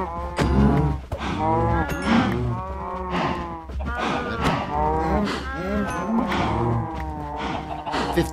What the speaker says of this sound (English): Still a lot of cows in here, so I think we can thin the herd a bit more.